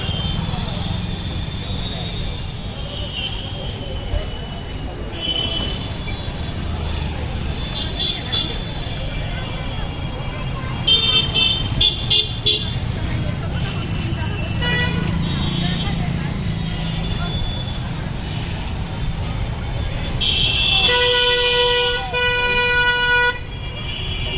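Busy street traffic in Muzaffarpur, Bihar, with a constant road rumble and repeated car and truck horn toots, including a long, loud blaring horn near the end, while someone talks over it.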